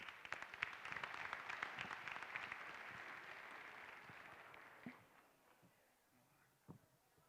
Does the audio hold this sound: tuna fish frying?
no